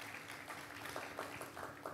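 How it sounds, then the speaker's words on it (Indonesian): A church congregation claps together during a worship service, a faint, continuous patter of many hands heard from a distance for about two seconds. "Boleh berikan tepuk tangan paling meriah untuk Tuhan Yesus."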